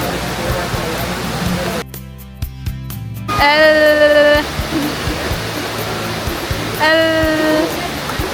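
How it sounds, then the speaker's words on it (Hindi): Water runs in a steady, broad rush beside a lakeside cafe in Dubai, with two brief, bright tonal calls rising above the flow partway through. "ऐसी फीलिंग आ रही है जब लेक की तरफ होते हैं तो पानी चलने की ऐसे ऐसे आवाज़ आ रही होती है"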